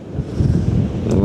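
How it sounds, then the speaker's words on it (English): A wind gust buffets the microphone at a ship-spotting spot on the Westerschelde estuary in the Netherlands, a steady low roaring rumble that builds and holds loud for over a second, with faint water wash beneath. "Oh, and then we got a wind gust."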